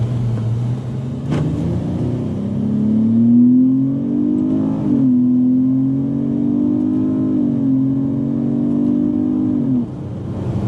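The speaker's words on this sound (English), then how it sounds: "So it's me shifting through the gears." 2012 Dodge Avenger R/T accelerating with AutoStick, its engine rising in pitch through each gear and then dropping at the shifts, a close steady cabin drone repeated across several upshifts.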